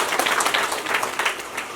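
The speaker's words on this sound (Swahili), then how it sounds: "makofi jamani" Church congregation applauding during a Catholic Mass at a parish community gathering, a lively burst of many hands clapping with an uneven, pulsing texture, fairly close and sustained across the brief moment.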